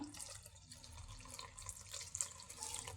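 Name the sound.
jaggery syrup being strained and poured into a pan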